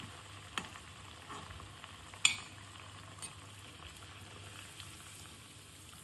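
Vadas made from cucumber and bhagar flour fry in hot oil with a soft, continuous sizzle, close by and fairly quiet, with a few brief clinks and stirring taps of a utensil.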